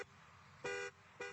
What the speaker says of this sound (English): Why the hell are you honking your horn?